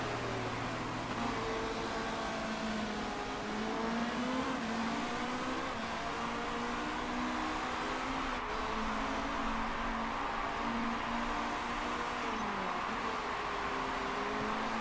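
Race car engines in the Motorsport Manager game, a steady droning whine with layered engine tones running continuously and fairly loud, shifting slightly in pitch as cars pass.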